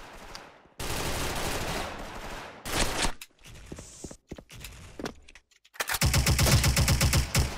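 MG36 machine gun in the shooter game Special Force, rapid automatic bursts of close gunfire alternating with short isolated shots and pauses, ending in a loud sustained burst.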